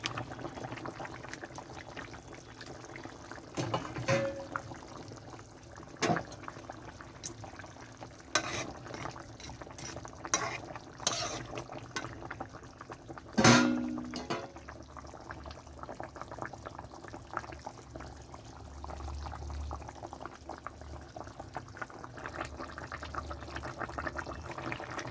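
Tilapia fish curry with potato and lentil dumplings simmers in a pot, a faint continuous bubbling with occasional clinks and stirring sounds, no talking.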